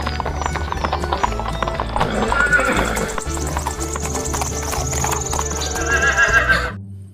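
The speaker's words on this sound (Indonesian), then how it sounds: "Wow, yang ini kuda." A horse neighs and its hooves clip-clop in a steady rhythm, loud and close throughout, with a bright whinny rising over the hoofbeats before the sound cuts off.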